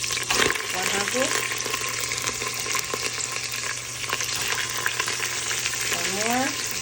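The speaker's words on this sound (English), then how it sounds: "This is my bacon that I got going, and then I'm gonna go ahead and put some onions in there." Bacon and onions frying in a pan give a steady, close sizzle and crackle throughout, with a brief stir or clatter near the start; some voice may be faintly present.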